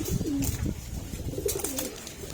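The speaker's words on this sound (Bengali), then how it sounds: "প্রত্যেকটা কবুতর ঝরঝর আছে" Pigeons coo close by in a few low, throaty bouts, with rustling and shuffling between the calls and no talking.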